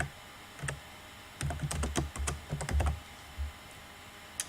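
A name being typed on a computer keyboard: short bursts of quick, close key clicks with brief pauses between them, alone and fairly quiet.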